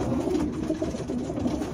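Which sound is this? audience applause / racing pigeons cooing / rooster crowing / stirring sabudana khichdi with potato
racing pigeons cooing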